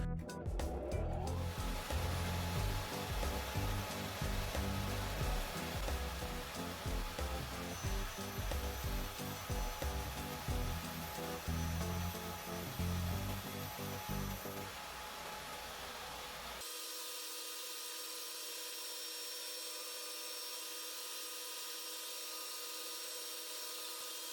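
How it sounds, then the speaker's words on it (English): A table saw with its blade raised pushes through plastic on a cross-cut sled, making a loud, close, pulsing roar of repeated cutting passes that suddenly drops away to a quieter steady hum near the end. "Then I raised the saw mechanism above the table and using a cross-cut sled made several cuts."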